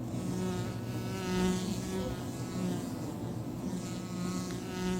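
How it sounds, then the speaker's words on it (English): Wasps swarming into a wild bee colony's hive in a tree hollow, a dense continuous buzzing of many insects close by, with steady droning hum and no voices. "Now wasps force their way into the hive and steal the last reserves."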